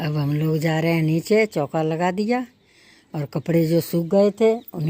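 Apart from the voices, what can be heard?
No everyday noise stands out behind the speech.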